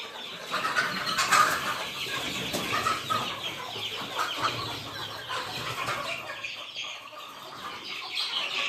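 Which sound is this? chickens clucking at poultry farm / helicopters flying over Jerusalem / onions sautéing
chickens clucking at poultry farm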